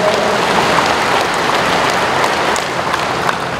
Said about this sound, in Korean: 우리 모두 우리를 위해서 박수를 쳐야 할 것 같습니다.